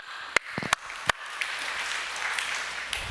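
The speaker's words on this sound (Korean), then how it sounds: "박수." A few sharp, separate claps ring out near the start of a Sunday evening church service, then softer scattered applause spreads through the congregation and lingers quietly in the room.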